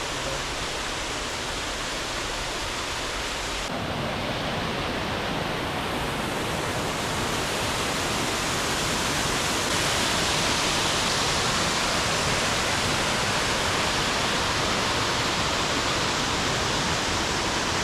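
Devil's Bridge waterfalls near Aberystwyth, a steady broadband roar of falling water in a wooded gorge, loud and continuous throughout with no voices.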